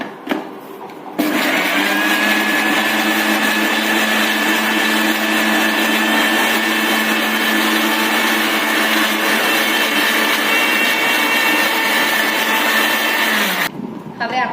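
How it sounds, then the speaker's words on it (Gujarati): A mixer grinder churns a raw mango mixture with a little water, running loud and steady with a constant motor whine from start to stop, then cutting off abruptly. "આ બધું મિક્સરમાં સાથે મિક્સ કરી અને એને આપણે ચર્ન કરી લેવાનું છે"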